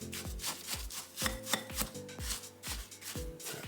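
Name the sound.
mixing no-bake banana cheesecake ingredients in a bowl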